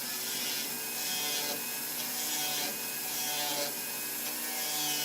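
Steady abrasive grinding on the inside of a handmade metal pendant, a continuous rough buzz with slight swells in intensity, close and fairly loud with no talking.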